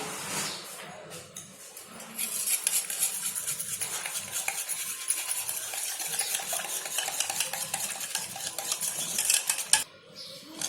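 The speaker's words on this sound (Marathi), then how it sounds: "त्याच्यामध्ये ही पावडर दुधामध्ये टाकून मिक्स करायची आहे" A spoon stirs kharvas powder into a bowl of milk, with rapid scraping and clinking against the bowl in a steady close rhythm, briefly pausing near the start and end.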